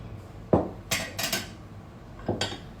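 Dinner plates and cutlery clink as main course plates are laid out on a table for a formal place setting, several sharp ceramic knocks and rattles in quick bursts, fairly close.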